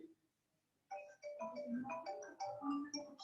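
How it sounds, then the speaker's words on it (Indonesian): A telephone rings during a Zoom meeting, a run of bright repeating electronic tones that starts after a near-silent pause and carries on clearly for a couple of seconds, with no one talking over it. "ada telepon."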